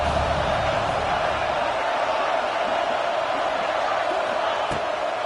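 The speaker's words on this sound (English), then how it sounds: "Man, this crowd really affecting the football game." A home stadium crowd roars at a college football game, Georgia against Alabama, as a broad, steady wash of cheering and noise fills the whole stretch, loud and continuous.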